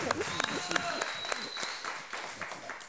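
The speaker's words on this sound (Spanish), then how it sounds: "Un aplauso para el coro." Studio audience applauding for a choir on a Peruvian TV show, with scattered claps and voices talking over the short burst.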